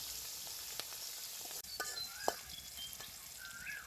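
Black cumin seeds sizzling and frying in hot oil in a pan for a village-style pabda fish curry, a steady crackling hiss with sharper pops and a few stirring scrapes, close and alone.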